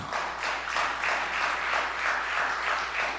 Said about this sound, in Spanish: ¿Por qué no un aplauso al Señor?